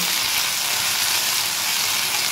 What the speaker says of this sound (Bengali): এবার আমি এটা দিয়ে ভালো করে নেড়ে চেড়ে নেব।